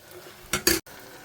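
Fried rice being stir-fried in a pan, heard as two short, loud bursts of scraping and sizzling from a utensil against the pan, then a brief silence and a low kitchen background.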